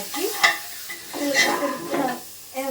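A spoon stirs chicken bone and ash gourd curry in a pan in several scraping, sloshing strokes with a soft sizzle underneath, close and moderately loud.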